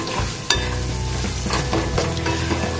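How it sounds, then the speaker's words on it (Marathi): Semolina, banana and dry fruits roast in ghee for a festival sheera, a steady sizzle running under scraping stirs, with one sharp utensil knock near the start. "इथे आपण 5 मिनिटे याला भाजूया, म्हणजे सर्व मिश्रण आपलं एकजीव होईल."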